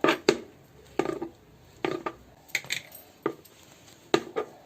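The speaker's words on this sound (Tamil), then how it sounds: "நான் கட் பண்ணி எடுத்துட்டு இருக்கிற" Mushrooms with their stems on being chopped with a knife on a cutting board for mushroom Manchurian, a series of separate close knocks at an uneven rhythm, with no voices.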